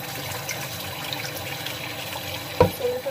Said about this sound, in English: we are filling up the sink so we can.